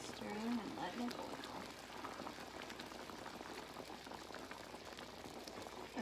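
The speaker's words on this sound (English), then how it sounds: "Stirring and letting it boil." Alfredo sauce bubbling at a boil in a pan as it is stirred, a soft continuous simmering patter close by, with a voice talking over it.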